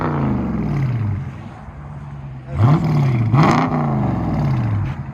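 Dodge Charger Scat Pack with a 6.4L HEMI V8 and Flowmaster Outlaw exhaust, close up, holding a steady rumbling idle before two sharp, loud revs that climb and fall back, with no talking.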